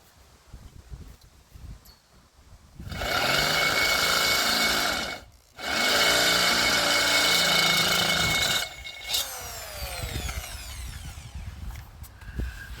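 A power drill boring holes through soft steel cans, two loud sustained bursts of high whining grinding separated by a brief pause, followed by quieter clanking and a fading spin-down.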